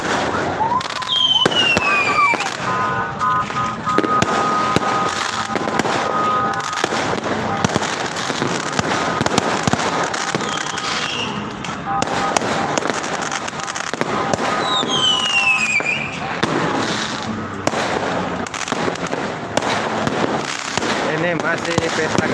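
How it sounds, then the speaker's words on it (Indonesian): Fireworks crackle and burst continuously over a town during a New Year's Eve celebration in Soppeng, with a few whistling rockets rising before exploding and voices talking faintly underneath. "Ini masih pesta kembang api di Kota Tupeng."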